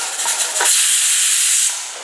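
A pressure cooker vents steam while cooking wheat rava vegetable pongal, a loud, sharp hiss that bursts out and holds for about two seconds before easing off.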